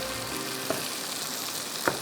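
Tomatoes and other vegetables fry with mutton in a pot for Balochi rosh, giving a soft continuous sizzle with a couple of faint clinks, close and alone.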